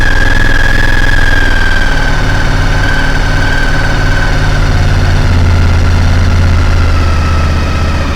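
A steady motorcycle engine idles close by on partial choke, a low continuous rumble with a faint whine holding evenly throughout.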